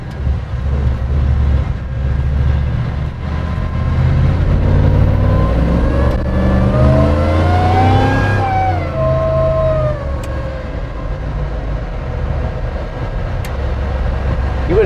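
A supercharged, Coyote-swapped 4wd Ford on 35-inch tires accelerates hard, its loud engine roar rising and falling steadily over the whole stretch, with a whining pitch sweep building in the middle.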